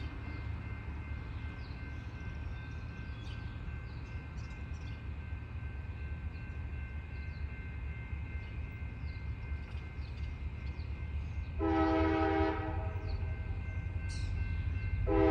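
Conrail Shared Assets CA-20 freight train heading west through Moorestown, New Jersey, past the former Pennsylvania Railroad station; a low, steady rumble builds as it passes, and one loud horn blast sounds near the end, with no talk.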